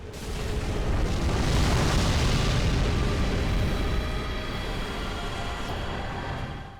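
Deep rumbling explosions from a Dark Souls 3 mod boss fight roll together into a continuous roaring boom, loud and heavy with crackling debris, fading slightly toward the end.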